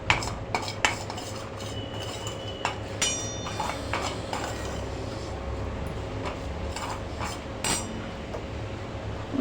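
Wheat flour is roasted in a pan on a low flame, with a spoon scraping and clinking against the metal in irregular close strokes over a quiet, even background.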